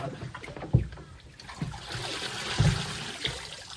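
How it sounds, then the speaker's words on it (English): Water trickles and splashes from the spark plug holes of a submerged outboard motor, a continuous dribbling stream with a few louder knocks and splatters, close by. "So I'm just letting the water drain out the spark plug holes there before I put it back on the stand."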